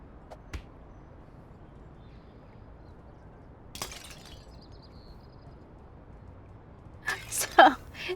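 Objects knock over and glass shatters in Little Kitty, Big City: a few sharp isolated cracks early on, then a loud clattering burst of breaking glass near the end over a quiet background.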